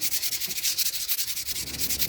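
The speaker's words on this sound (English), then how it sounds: "I'm going to go over it with some 240 grit sandpaper just to smooth it out" Pine wood being hand-sanded with 240 grit sandpaper, a close, steady rhythmic rubbing with repeated back-and-forth strokes and no talk.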